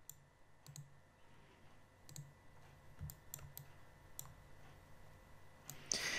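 Computer mouse clicking during 3D modelling work: scattered faint single clicks at irregular intervals over a quiet room hum, with no talk.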